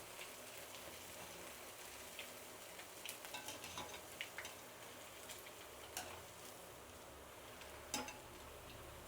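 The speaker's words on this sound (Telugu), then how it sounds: "ఇప్పుడు అన్నీ గోల్డెన్ కలర్ వచ్చేదాకా బాగా వేయించుకుందాం" Vadas deep frying in hot oil for a Karnataka-style dip vada, a steady faint sizzle with scattered small crackles and pops and no one talking.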